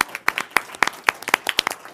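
An audience at a Goleta city council meeting applauds Public Works Department employees, with sharp individual hand claps at an uneven pace, a small group clapping nearby for about two seconds and no talking.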